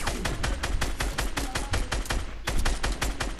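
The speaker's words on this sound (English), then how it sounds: "Oh, I'm getting shot!" Rapid automatic gunfire from the Fortnite video game rattles in dense, unbroken bursts, loud and close, with a brief lull before another volley near the end.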